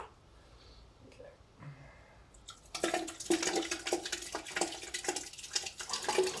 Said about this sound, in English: And on the other end, we can hear actually the effluent coming out